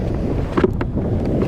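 Wind gusts buffet a microphone aboard a fishing boat, a loud, rough rumble with a few brief flutters like braided fishing line whipping in the breeze, no one speaking.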